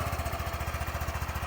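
A Honda Grom MSX125 motorcycle engine idles steadily close up, with a fast, even, low thumping pulse.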